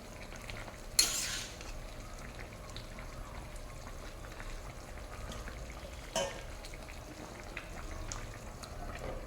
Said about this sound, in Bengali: এখন একটু নাড়িয়ে মিশিয়ে দেবো।